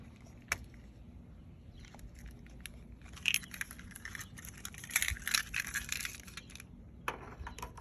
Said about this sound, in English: And let me grab my keys.